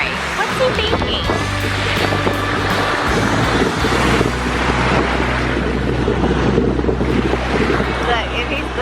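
Ocean waves break on a beach during a Fourth of July outing, a rolling surf wash mixed with heavy wind buffeting on the microphone and a low engine-like drone, with people talking nearby.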